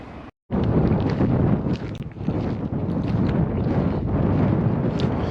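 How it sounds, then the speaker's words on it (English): Strong gusty wind buffeting the microphone on a cold Assateague Island beach, loud and roaring throughout after a brief silent gap near the start. "It's pretty windy and cold out today."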